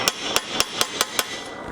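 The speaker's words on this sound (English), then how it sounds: "just using light taps with the hammer and just upset it a little bit and create a sharp corner" A blacksmith's hammer lightly taps hot iron to upset it into a sharp corner while forging a period-style toaster: six crisp, evenly spaced metallic strikes, close and clear, with no voices.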